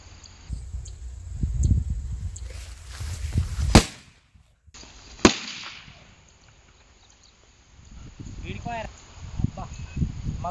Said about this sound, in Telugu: ఇప్పుడు మనం లయన్ బాంబు పైన మగ్గు పెట్టి పెట్టినాము, చూద్దాం మగ్గు లేస్తుందా లేకపోతే లయన్ బాంబు లేస్తుందా చూద్దాం